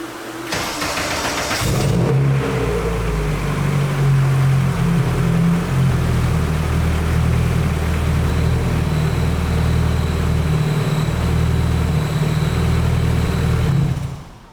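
A freshly rebuilt Toyota AE86 engine, running on break-in oil, cranks and catches, then settles into a loud, steady idle with slight surges that holds for about twelve seconds before cutting off. No voices are heard.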